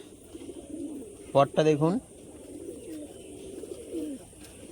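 A male pigeon coos in a steel cage, a short burst of throaty, wavering coo notes lasting under a second, close and clear above a low background murmur. A person speaks briefly nearby.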